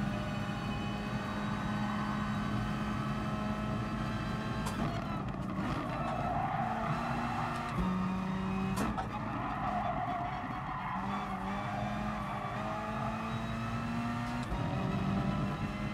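Racing cars in the GT Sport video game, engines droning and shifting pitch as they accelerate, with tyre skids squealing through corners over a continuous mid-level roar.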